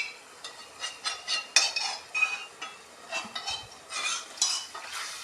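Water poured into a clay pot of Kottayam-style fish curry and stirred, giving a run of scraping, swishing stirring strokes with soft sizzling, close up and without talk.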